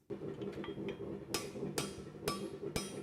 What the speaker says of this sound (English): and then hammering the material